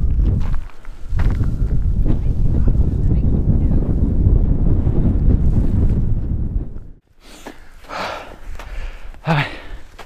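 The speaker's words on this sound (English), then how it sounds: "And it's pretty windy." Loud wind roars against the microphone on an icy mountain summit hike for several seconds, then drops off abruptly, leaving quieter gusts, footsteps and a breathy gasp.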